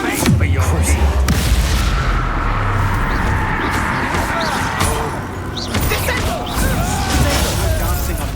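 A Bombarda blasting spell explodes in the Hogwarts Legacy video game, a loud booming impact with crashing debris and rumbling, followed by continuing combat clatter and a few more thuds.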